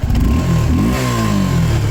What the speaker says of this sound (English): Let me just show you how the exhaust load of this beautiful bike is.